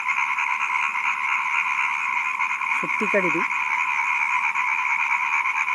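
Rain-soaked frogs keep up a constant loud croaking chorus, while someone briefly speaks a word over it midway through.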